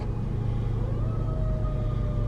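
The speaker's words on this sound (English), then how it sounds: "Uh-oh, the fire truck coming out." A fire truck pulls out with a heavy low engine rumble that rises in pitch as it accelerates, fairly close and steady, with no talking.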